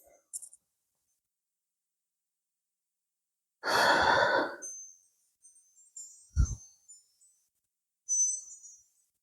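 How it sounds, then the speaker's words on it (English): A single deep breath during a gentle yoga practice, one long audible exhalation in a quiet room, followed by faint soft movement sounds and small clicks. "breathing, nice long, deep inhalation"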